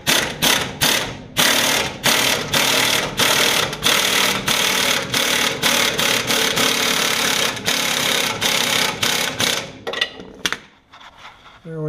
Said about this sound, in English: And then I just hit it with my impact gun.